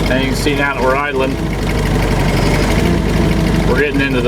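Car engine fitted with a supercharger blower idling with a steady low rumble while someone talks over it throughout.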